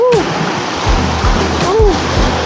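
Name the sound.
strong river current flowing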